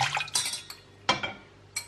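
Last scraps of vinegar being poured out in a kitchen, brief close liquid splashes with glassy clinks in a few short bursts.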